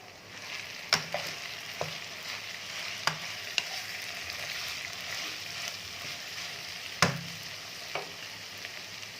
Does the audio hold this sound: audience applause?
no